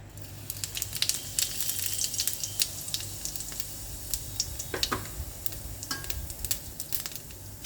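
Cumin seeds sizzle in hot oil in a pan, a soft continuous crackle with scattered sharper pops and spits, fairly quiet and close with no voices.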